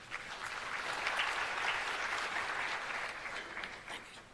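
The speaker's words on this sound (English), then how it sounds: "Let's give Mr. Hindley another big round of applause, ladies and gentlemen." Audience at a launch event for technology centres of excellence breaking into sustained applause, a dense wash of many hands clapping steadily, moderately distant, easing off toward the end.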